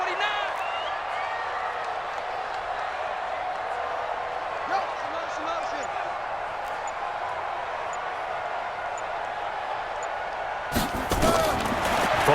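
Stadium crowd noise in Madden NFL 20 during an NFL game between the Bengals and an opponent, a steady roar swelling ahead of a big third down, with commentators talking over it.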